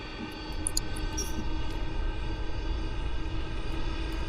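Steady drone of aircraft engines in the video game Aeronautica, a constant whine and low rumble holding evenly throughout with no voices.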